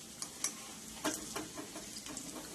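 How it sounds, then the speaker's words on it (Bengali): Mustard flower fritters fry in oil over a low flame, a soft continuous sizzle broken by light scattered clicks and taps as they are turned and stirred, with no talking. "উল্টে পাল্টে ভালো করে আমরা কিন্তু এগুলোকে ভেজে নেব"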